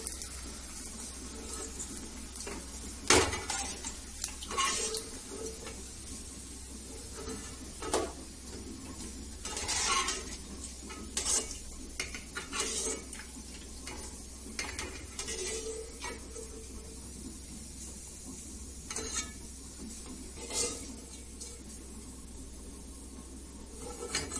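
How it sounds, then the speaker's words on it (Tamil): Leftover dosa vadagam frying in hot oil, a crackly sizzle under scattered sharp pops, taps and clatter of a utensil in the pan, fairly quiet and irregular, no voices. "நல்லா பொரியுது ஹை ஃப்ளேம்ல வச்சுட்டு வடகத்தை போட்ட உடனே லோ ஃப்ளேம் பண்ணிக்கோங்க"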